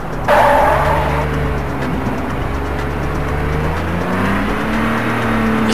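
A car driving in The Getaway video game on PS2: an engine revs up sharply at the start, then holds a steady, close drone with shifting pitch as the car moves along, with no voices.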